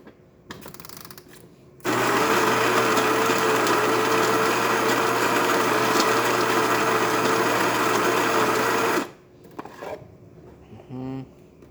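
A Baratza Preciso coffee grinder grinds steadily for about seven seconds, a loud close motor whine with a harsh burr-grinding rasp, then cuts off sharply. Quieter handling clatter and rustling come before and after.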